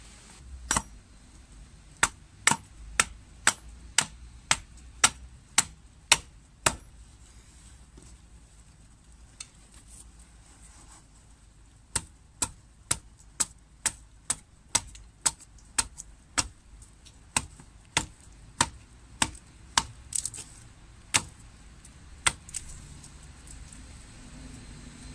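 A budget vintage Roughneck hatchet of about 0.6 kg chops through very old, dry ash and Leyland cypress, giving a long run of sharp, separate woody strikes at an irregular steady pace, with a few short pauses and no talking.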